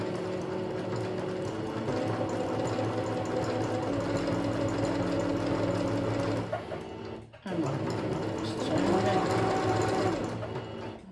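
A Singer Curvy sewing machine stitches a finishing seam, its steady close mechanical whirr running continuously with a brief pause partway through before resuming at an even pace.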